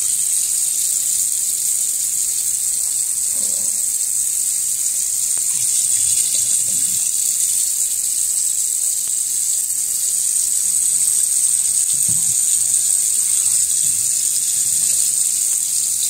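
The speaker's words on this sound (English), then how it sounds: "Pouring off the water." Hot lasagna noodle water is poured off down a kitchen sink drain, a steady hissing gush running for the whole stretch, fairly quiet, with faint background clatter and no talk.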